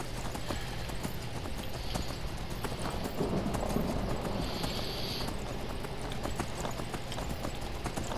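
Steady clip-clop of horse hooves trotting at an even rhythm in the video game Skyrim, moderately close, continuing throughout with faint background noise.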